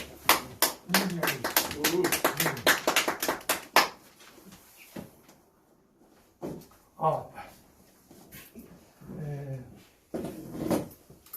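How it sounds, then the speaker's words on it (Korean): A press conference audience claps in a brief burst of sharp, fast hand claps lasting a few seconds, followed by quieter stretches with someone speaking nearby. "박수 한번 치죠."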